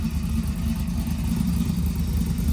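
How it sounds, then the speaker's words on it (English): A 1946 Chevrolet pickup engine idles slightly low close by with a deep, steady, slightly lumpy rumble that holds throughout, no voices over it. "The idle maybe is a little too low still"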